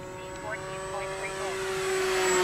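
E-flite Cherokee 1.3 m RC airplane flying at full throttle, a sustained high electric motor whine that steadily grows louder as it approaches, with people talking outdoors.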